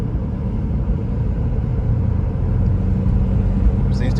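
A 2004 Toyota Prius hybrid cruising around the block, heard from inside as a steady low road rumble with a muted engine drone and no sharp changes.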